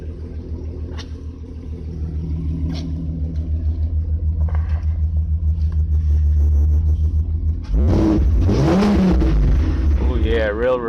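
A VW VR6 2.8L 12v engine runs after a timing chain repair, a steady close rumbling idle that builds slightly, then a rev rises and falls as people talk over it near the end.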